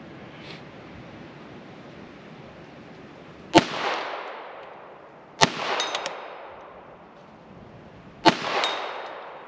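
A 1989 Ruger Mark II semi-auto pistol firing .22 LR rounds at a steel target: three sharp cracks spaced a few seconds apart, each followed by a ringing metallic clang that decays slowly, heard outdoors at a distance.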